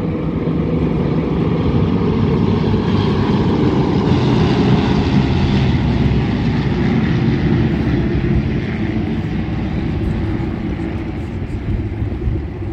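CT4 propeller training aircraft fly past at a flying display, a broad, loud droning engine roar that holds steady and swells slightly before easing off as they move away.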